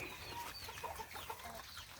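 Faint, soft clucking of chickens nearby, a few scattered calls against a low background hum.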